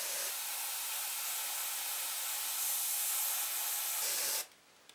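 A steady airbrush hiss, spraying paint for fur through a yard brush's bristles, runs for about four seconds, then cuts off abruptly, leaving near silence.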